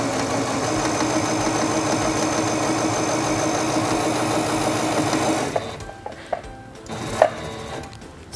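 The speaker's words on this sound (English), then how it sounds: "Release the button and sew forward along your seam." A Singer Stylist 7258 sewing machine stitches a seam in fabric with a steady, fast mechanical whir, then stops, leaving a few light clicks and handling taps near the end.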